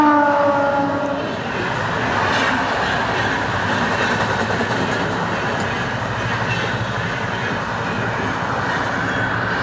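An express train roars past close by in Gujarat, a loud continuous rumble of wheels on rails with a fading horn tone at the start.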